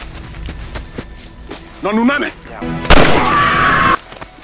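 A sharp, loud gunshot cracks out amid busy action sounds and voices, followed by a sustained burst of noise that cuts off abruptly.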